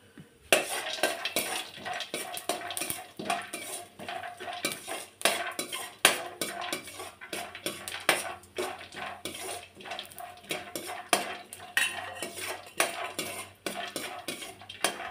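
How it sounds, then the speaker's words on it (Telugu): Almonds frying in ghee in a pan, stirred with a metal utensil: constant close scraping and clattering strokes in an uneven rhythm over a soft sizzle, with no talking. "నెయ్యి వేసుకొని ఈ బాదం పప్పులు వేయించుకోవాలి."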